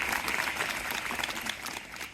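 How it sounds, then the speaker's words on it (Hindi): Applause from students at a school prayer assembly and children's function, a fairly soft but steady patter of many hands clapping that continues for about two seconds. "ताली बजा दो भाई इसके लिए।"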